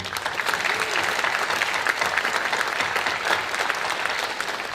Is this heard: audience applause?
yes